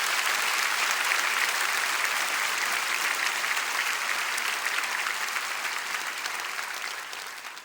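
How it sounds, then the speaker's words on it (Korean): A congregation at a dawn prayer meeting claps steadily and loudly as one dense, sustained wave of applause that fades slightly toward the end, with no talking over it. "힘차게 하은이 위해 회복을 위해 박수하겠습니다"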